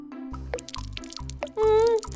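Water dripping through a leaky roof falls in a steady rhythm of distinct plops, several per second and fairly close, over a musical backing with a brief held tone near the end.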